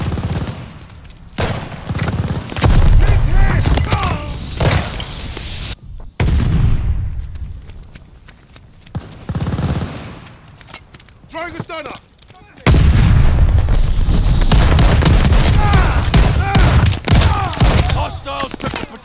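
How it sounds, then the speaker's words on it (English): Call of Duty: Vanguard match with a thrown stun grenade: heavy, continuous battlefield noise of gunfire bursts and booming blasts, a sudden loud burst around the middle, then renewed intense firing near the end, with a voice occasionally heard. "Tossing stun grenade!"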